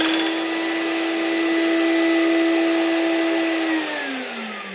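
A workshop vacuum plugged in for dust extraction on a bench, running as a loud steady motor whine alone, with its pitch dropping slightly as it starts spinning down near the end.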